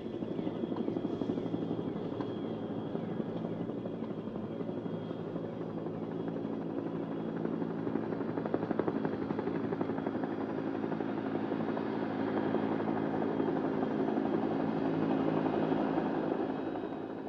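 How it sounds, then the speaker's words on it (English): A helicopter's steady rotor drone and engine whine fill the air continuously over jungle, fairly loud and unchanging, with no voices. "the helicopters are on their way to resupply the forts"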